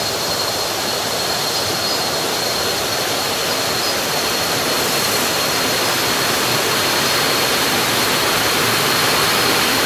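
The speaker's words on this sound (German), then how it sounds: "bin ich hier an einem kleinen Wasserfall" A small waterfall pours over rocks on Koh Phangan, making a dense, steady rushing roar that stays loud and unchanging throughout, with no voices.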